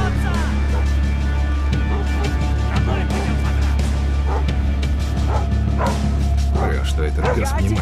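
A dog in the stealth video game Thief barks, yips and whimpers repeatedly over a dense, loud game soundtrack, with someone talking throughout.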